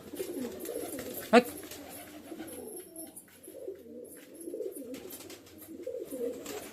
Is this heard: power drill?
no